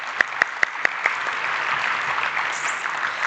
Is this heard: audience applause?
yes